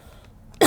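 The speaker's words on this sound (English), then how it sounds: "When I start talking too much, I just want to cough" A single sharp cough bursts out close and loud at the end after a brief near-silent pause.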